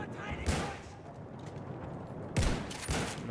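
Battlefield 1 gunfire sounds in distant, faint bursts, a few sharp shots and short volleys spread across the moment over a low game rumble.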